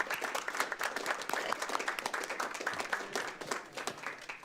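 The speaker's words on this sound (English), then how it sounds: "let's give Chief Scoville and our fire department a round of applause" A room at a city council meeting breaks into sustained applause for the fire chief and the fire department, dense steady clapping from many hands at moderate distance with no talk over it.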